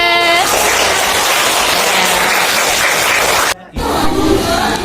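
A class of schoolchildren applauds in a loud, dense burst of clapping and excited voices, with a harmonic shout at the start, a sudden brief dropout near the end, then noisy clapping resuming.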